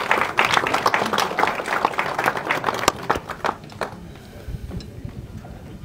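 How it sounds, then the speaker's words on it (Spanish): Applause from an audience at an awards ceremony handing out environmental certificates in Tlaxcala, Mexico, with dense clapping at first that thins out and fades toward the end, a few stray claps remaining. "El aplauso para el Centro de Conciliación Laboral Tlaxcala."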